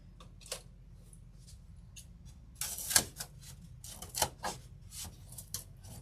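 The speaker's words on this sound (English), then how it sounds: "I don't do a good job of cutting with an X-Acto knife or scissors or anything on this" An X-Acto knife cuts a wooden craft piece for a bunny kit, producing scattered faint clicks and short scraping strokes, close and quiet, with a denser cluster of sharper cuts in the middle.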